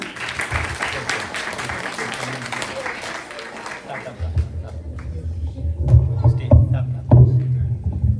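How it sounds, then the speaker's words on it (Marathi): An audience at a Marathi poetry recital breaks into steady clapping for about four seconds before it fades and a voice takes over. "जरा सगळ्यांनी टाळ्या वाजवा"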